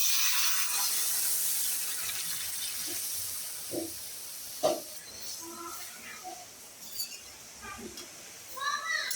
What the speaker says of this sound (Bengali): এবার আমি ডালটা যে জাল করে রাখলাম এটা এবার ঢেলে দেবো